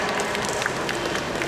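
An indoor audience at a school robotics sharing session applauds to welcome a speaker, with dense, steady clapping throughout.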